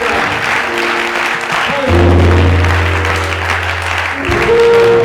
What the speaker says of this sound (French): Let's stand and give the Lord a clap